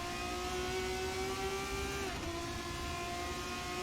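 Race car engines in a racing video game hold a steady, loud high whine at the start of a race, with the pitch dipping briefly and then settling again, sustained throughout with no voices.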